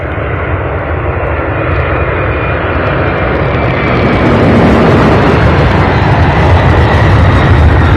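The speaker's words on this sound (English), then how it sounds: "here we have an MD-11. Check this out. Look at that." A McDonnell Douglas MD-11 jet taking off at Louisville International Airport, a loud steady engine roar that swells slightly as it climbs, heard alone without talk.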